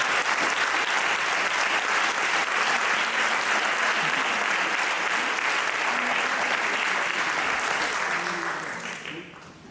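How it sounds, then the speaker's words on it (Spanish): A large auditorium audience gives long, loud, sustained applause for a speaker. The dense clapping stays strong for most of the stretch, then thins and fades near the end, with faint voices beneath it. "reiterar aquí a este auditorio un sonoro aplauso"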